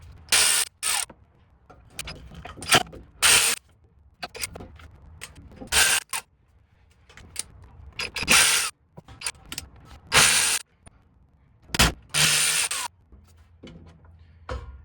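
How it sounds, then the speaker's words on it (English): Electric ratchet working the rear end cover bolts on a 1979-2004 Ford Mustang, heard as repeated short loud buzzing bursts of a second or so each, separated by pauses and faint clicks and handling noise. "in the interest of time, I'm going to use my electric ratchet, but you can use a normal ratchet as well"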